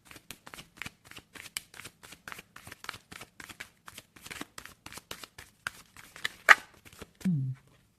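Tarot Illuminati deck shuffled by hand, a long run of quick, crisp card riffles and slaps heard up close, with a short voiced sound near the end.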